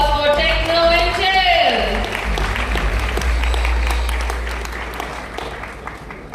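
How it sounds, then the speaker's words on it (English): Audience applause greets a startup pitch team at an innovation summit, steady and fairly loud at first, with crowd noise and a voice or music tone early on, gradually thinning over several seconds. "Please give a big round of applause for Techno Intel."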